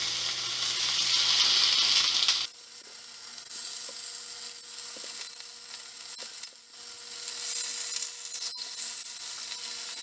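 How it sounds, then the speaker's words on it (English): Sous vide steaks sear on a hot griddle, giving a steady, close sizzle that grows louder once they are laid down, with a few small clicks and scrapes over the top. "So once the griddle is nice and hot, it's time to cook these bad boys up."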